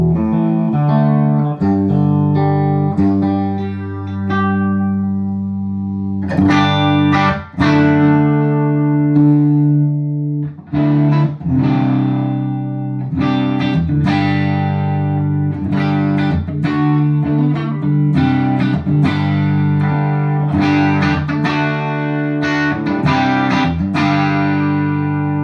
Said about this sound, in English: I don't have any effects on this, but you are hearing the amp with a lot of breakup.